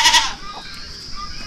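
A goat on a small farm in Vietnam, part of a herd kept by a young couple, gives a short, loud bleat at close range, followed by faint background noise.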